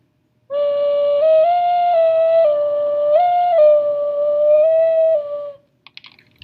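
A sustained, pure whistle-like ocarina tone steps between several pitches for about five seconds, played alone, followed by a few faint clicks.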